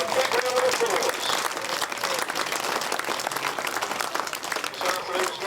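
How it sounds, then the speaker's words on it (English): Applause from a crowd at a grasstrack sidecar racing meeting, steady dense clapping sustained throughout, fairly loud and continuous, with a faint voice briefly audible early on. "And a quick round of applause."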